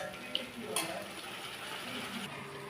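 Soft scraping and stirring of spiced masala with salt in a pan for aloo biryani, a steady low sizzle with a couple of light utensil clinks, no talking.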